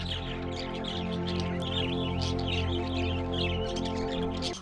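Parakeets chirp and twitter continuously in an aviary at a county fair, a dense overlapping flock of bright calls over a steady low mechanical hum, close and fairly loud with no talking.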